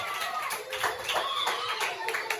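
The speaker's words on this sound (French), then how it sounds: "Bravo, applaudissements s'il vous plaît" A small group claps during a quiz contest, uneven and brief, with children's voices and talk mixed in nearby.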